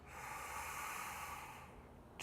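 A deep, steady breath drawn in during a guided meditation, a soft continuous airy hiss that fills the moment at low volume, close and alone with no talking.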